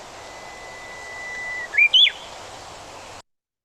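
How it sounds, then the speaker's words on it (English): A recorded bird gives a thin, steady whistle followed by two short, rising chirps, clear over a constant low hiss before the playback stops. "is a bird call."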